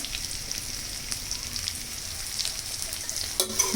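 Cauliflower pakoras frying in hot oil give a steady, even sizzle with crackling bursts that run for several seconds, close by and fairly quiet, with no voices.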